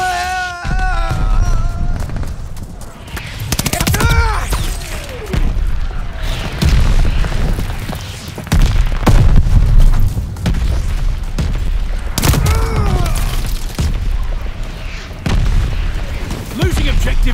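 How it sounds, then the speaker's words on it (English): Mortar strikes land in a Call of Duty: Vanguard Domination match, heavy booms and rumbling blasts layered over constant loud battle noise, with voices calling out in the game throughout. "Mortars incoming."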